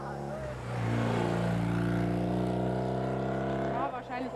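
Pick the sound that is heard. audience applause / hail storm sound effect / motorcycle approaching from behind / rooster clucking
motorcycle approaching from behind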